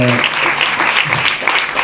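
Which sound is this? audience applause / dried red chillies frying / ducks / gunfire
audience applause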